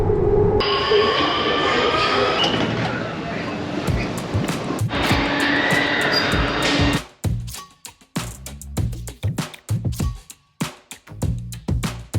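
Trains rumble and roll through Beijing West railway station in a loud, reverberant hall ambience. The heavy wash gives way to sharp clacks and knocks, with people talking nearby.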